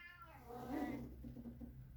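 A cat meows once, a drawn-out, rising and falling cry close by, with a quiet background hum.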